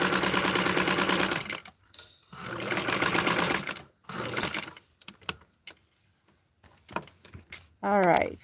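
A sewing machine stitches gathers on a doll dress in two sustained close runs, separated by pauses filled with clicks, handling noises and brief talk.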